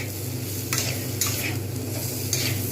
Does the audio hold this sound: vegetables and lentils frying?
yes